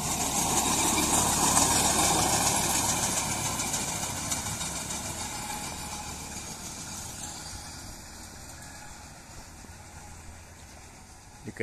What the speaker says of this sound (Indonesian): Dikirain ada kereta mau lewat ya, ternyata lori euy.